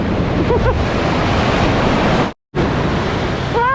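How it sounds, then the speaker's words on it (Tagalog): Large ocean waves surge and break over the sandbar at Fingal Bay, a loud, continuous roar of surf with wind buffeting the microphone; the sound cuts out briefly midway, and faint bird-like whistles appear near the end. "Ang laki ng wave dito mga kabisdak, parang tidal wave no."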